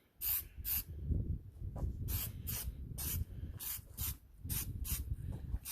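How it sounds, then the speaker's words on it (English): Spray paint hisses onto a gun stock outdoors in the wind, about a dozen short bursts in an irregular rhythm over a low rumble of wind buffeting. "A little difficult spraying consistently in this wind."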